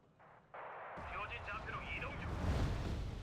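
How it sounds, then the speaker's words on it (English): Heavy bombs exploding in the Wargame: Red Dragon strategy game, a sudden loud blast that swells into a dense, rumbling roar of overlapping explosions under a talking voice. "we're just dropping a bunch of bombs over here just to try and see if we can find where the command vehicle got to"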